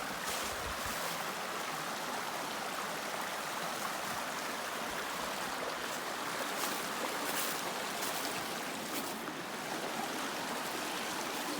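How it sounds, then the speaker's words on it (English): Two creeks meet along the Pinhoti Trail, their water rushing in a steady, full-bodied roar that fills the whole stretch without pause or voices. "So here you've got the 2 creeks coming together."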